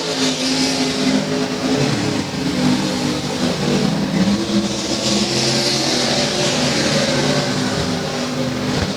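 Limited modified race cars roar around the oval at Rose Bowl Speedway, their engines droning and revving continuously at close range with no letup, a steady dense wall of motor noise and no talk in the foreground.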